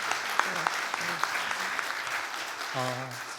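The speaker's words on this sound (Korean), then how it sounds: "우리 다시 한번 그 큰 용기의 박수 보내주시면 감사하겠습니다." Korean church congregation at a Sunday afternoon service gives a round of applause, steady crowd clapping with a few sharp claps near the front, while voices speak over it toward the end.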